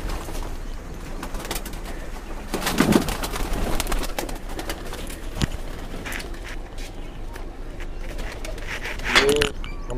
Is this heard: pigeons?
yes